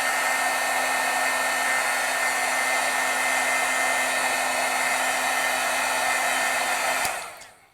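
A handheld heat tool blows steadily and loudly to heat-set Brilliance pigment ink on a stamped card. The whir runs alone, even and unbroken for about seven seconds, then cuts off abruptly.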